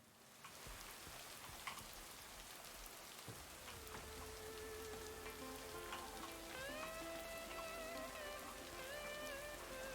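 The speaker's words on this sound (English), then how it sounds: "Oh, I love the sound of rain." Steady rain hisses continuously at a lake, a dense wash of drops heard alone, with tonal game music sounds rising in the background partway through.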